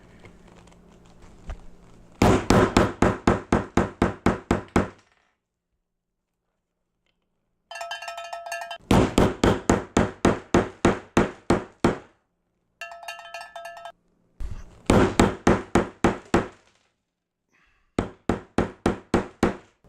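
A metal snap setter struck on an anvil in quick bursts of eight to ten sharp, ringing hammer blows, separated by pauses and short metallic rattles, loud and close.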